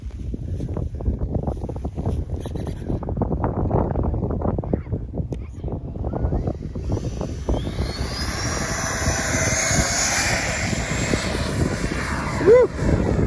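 An Avanti aircraft takes off in strong wind, its engine noise building to a loud steady roar with a rising whine in the second half, heavy wind buffeting the microphone throughout.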